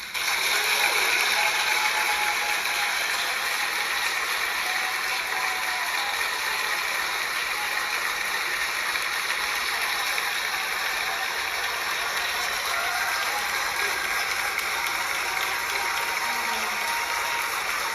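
A theater audience in Montclair, New Jersey, applauds steadily to welcome Anna Deavere Smith on stage. The clapping is dense and sustained, with a dull constant roar, and no voices are heard over it.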